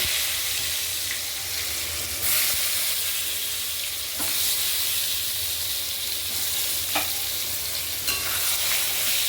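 Eggplant pieces fry in hot oil seasoned with nigella seeds, oil already used for frying a hilsa fish head, giving a continuous close sizzle with occasional scrapes and stirs.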